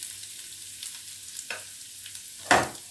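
Chopped garlic and ginger frying in a pan: a soft, continuous sizzle sits under a few light stirring scrapes, ending in one louder utensil clatter.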